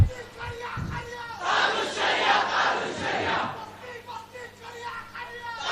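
A crowd at an Islamic religious lecture chants a slogan, many voices shouting together loudly and swelling through the middle before fading back toward a murmur.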